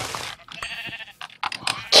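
A sheep in Minecraft bleats in short, close, nasal cries, repeated several times across two seconds with brief gaps between them and no talking over them.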